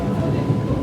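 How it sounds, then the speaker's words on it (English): Train travelling at speed on a rail line in Italy near Venice, a steady loud rumble and rattle of the carriage filling the whole clip with faint voices mixed into the background. "This train is moving pretty fast."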